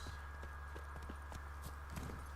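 Hooves of the horse Roach clip-clop in a steady galloping rhythm in The Witcher 3: Blood and Wine, fairly faint and set against a constant low game ambience hum.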